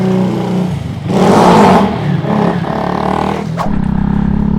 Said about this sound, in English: Let's go for a test ride.